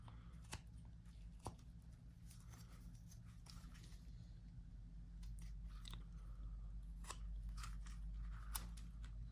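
A knife whittles a small wooden figure, trimming its feet, in quiet, crisp little clicks and shaving cuts that come in scattered bursts against a low, hushed background.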